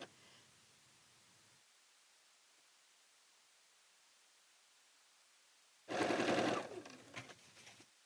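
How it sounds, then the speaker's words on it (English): A sewing machine stitching fabric triangles for a Salem Star quilt block runs in a loud, steady burst of about a second and a half, then trails off in a few slower stitches, following a long stretch of near silence. "I'm going to stitch from one to the next one"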